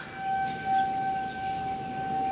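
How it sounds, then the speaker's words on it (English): A tornado warning siren sounds faintly from a distance at a rural farm during high winds, as a steady sustained tone over a rushing background. "but they're still running the siren"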